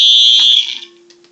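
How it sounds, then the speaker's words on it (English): An unplugged smoke alarm with a tamper-proof feature sounds a loud, piercing electronic beep up close, which tapers off into fainter residual tones. "It literally beeps continuously when you unplug because it has a tamper-proof feature in it."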